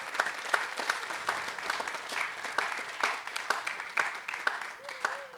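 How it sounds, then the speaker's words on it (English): Wedding guests at a reception clap for Sean, the ceremony officiant, a lively mix of crisp individual claps and a general crowd patter, fairly close, with a voice briefly audible near the end. "let's get a round of applause for Sean"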